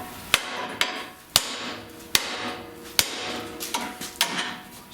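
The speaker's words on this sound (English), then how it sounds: "So all I need to do now is bash this, and this will come off so I can unscrew it." A hammer striking a track rod end on the steering of a Jaguar V12 XKE, about eight sharp metallic blows at irregular intervals with short ringing decays, close and loud, no speech.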